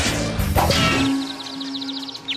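A metal pan is set down with one sharp, loud clang near the start, leaving a sustained ringing tone that fades slowly, with a few light knocks and swishes after it.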